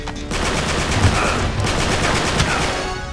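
Automatic gunfire in Uncharted 3 at a burning château, loud rapid bursts rattling continuously close by for several seconds with no talk.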